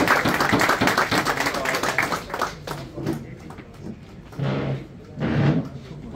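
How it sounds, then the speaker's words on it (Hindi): A crowd at a prize distribution ceremony for a 2023 tournament in Peterborough claps in a dense burst that thins into scattered claps, with murmuring voices through it. "बहुत सारिया तालियां भरावां दियां जी"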